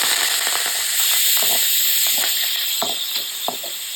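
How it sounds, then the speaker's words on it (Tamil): Curry leaves hit hot oil already holding popped mustard seeds, urad dal and cumin, giving a loud, steady sizzle and hiss dotted with sharp crackles and pops throughout. "இப்ப கருவேப்பிலை போட்டுக்கலாம்."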